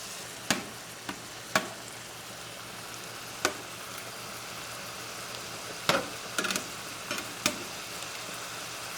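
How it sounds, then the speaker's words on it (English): Shrimp frying in a pan, a steady faint sizzle with scattered sharp pops and crackles of spitting oil, no voices. "I love cooking shrimps because they do not take long to cook"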